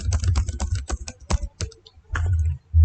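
Quick clattering keystrokes on a computer keyboard, ending in a Ctrl+V paste, loud and close in a rapid burst that thins out, then a few last presses and a thud.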